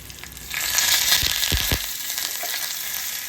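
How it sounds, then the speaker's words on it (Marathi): Cumin, chili, asafoetida and curry leaves sizzle and crackle in hot oil for a Marathi tempering, a steady close frying hiss with a few sharper pops midway. "थोडे जिरे एक मिरची थोडा हिंग आणि कढीपत्ता"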